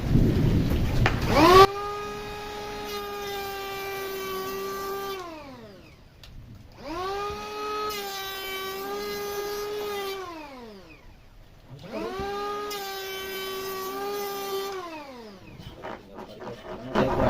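A cheap battery-powered Mollar wood planer runs empty with no workpiece, revving up in three long whining bursts, each holding a steady high motor tone before spinning down, with short quiet gaps between.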